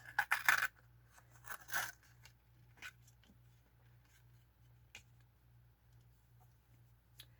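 Scissors snip through vintage lace in a few quick, close cuts near the start, then lighter scattered clicks and rustles as the blades open and close at a steady, quiet pace.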